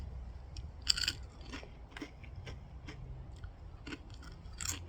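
Close, crisp crunching of Kettle Brand Special Sauce potato chips being chewed, repeated irregular crackles over a low steady background.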